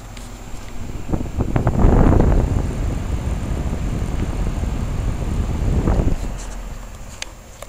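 A Coleman Echelon 3S 2-ton heat pump runs in cool mode outdoors, a steady broadband whoosh of the fan and compressor that swells louder twice, close to the microphone with no talking.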